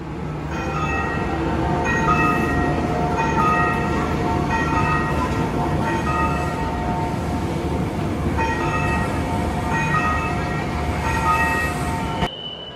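Sri Tanjung passenger train standing at a station platform, a continuous loud rumble of rail and engine noise with repeated tonal chime or horn notes ringing out at intervals.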